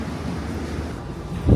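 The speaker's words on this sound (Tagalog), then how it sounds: "Ay mahangin dito." Gusty wind rumbles and buffets against the microphone in Ikseon-dong Hanok Village, Seoul, with a brief louder thump of wind noise near the end.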